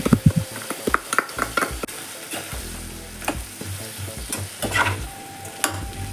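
Masala powder is stirred into country chicken curry frying in a pan, with loud spatula scrapes against the metal and a steady sizzle underneath.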